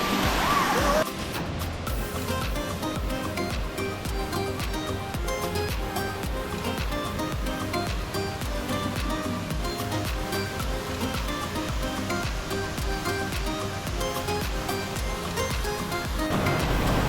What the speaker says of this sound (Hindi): तो काफ़ी अच्छी जगह है, वाटरफॉल भी बहुत अच्छी है।